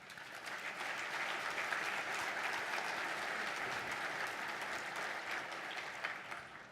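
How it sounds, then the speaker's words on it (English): Steady, dense applause from an audience at an entrepreneurs' gala, a continuous wash of clapping that holds at an even level for several seconds. "Please give yourselves a round of applause for that."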